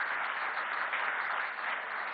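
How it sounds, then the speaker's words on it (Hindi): An audience at a public talk gives a steady, even wash of applause that stays moderately quiet and somewhat distant, with no breaks and no voices over it. "तालियां उस हिसाब से कम बजी"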